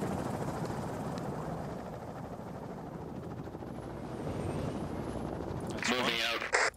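In a military video game set in Afghanistan, a Chinook helicopter drones with a continuous low rotor thrum, and brief talk rises over it near the end.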